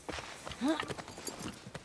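Horse hooves clip-clop in the video game The Last of Us Part II: light, quick hoof knocks in an uneven rhythm, with a short whinny-like tone in the middle and a faint voice underneath.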